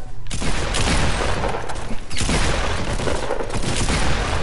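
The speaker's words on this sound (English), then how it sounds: "Where them shots coming from? Shoot, they're shooting." Rapid bursts of gunfire and grenade blasts crackle loudly and almost continuously in a first-person shooter video game on PS4, with a brief lull mid-way before the shooting resumes.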